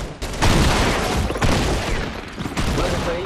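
Rapid gunfire bursts from a weapon duel in the Fortnite video game, dense and loud, with a few short breaks between volleys across the whole stretch.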